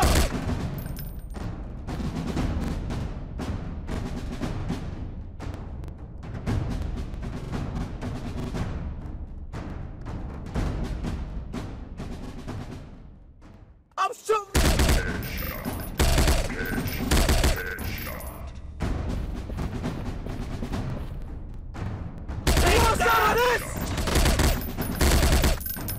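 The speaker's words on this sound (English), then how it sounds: "I'm shooting these fools up!" Rapid automatic gunfire from a mobile first-person shooter game, loud continuous bursts of shots with brief pauses between volleys, dense and sustained throughout.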